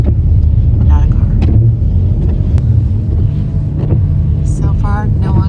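A car rumbles along a wee single-track road on the edge of a drop-off above Crummock Water in the Lake District, steady low engine and tyre noise with wind buffeting the microphone and people talking over it.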